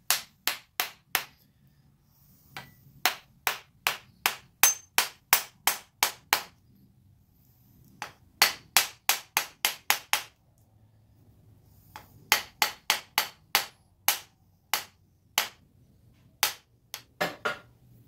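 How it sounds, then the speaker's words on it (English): A rubber hammer taps a handmade Bowie knife in quick, sharp, close knocks, grouped in steady runs of several strikes separated by short pauses, with no talk. "I got a rubber hammer here that I'm going to tap this thing"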